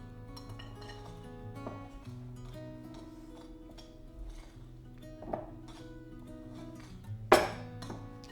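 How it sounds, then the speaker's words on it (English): Dry granola ingredients being stirred by hand in a bowl with oil, applesauce and banana in a kitchen; quiet scraping and soft clinks throughout, with one sharper clink near the end. "trying to get the dry stuff mixed in with the oil and the applesauce and the banana"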